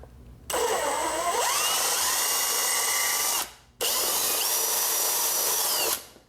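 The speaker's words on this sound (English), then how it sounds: "for this part, I'm going to be using a drill because it's going to make this a lot easier" An electric drill whirs loudly in two bursts, drilling two holes during stator and rectifier replacement on a 2006-07 Suzuki GSXR 600/750 motorcycle, pitch shifting as the bit bites in, with a brief pause between the runs.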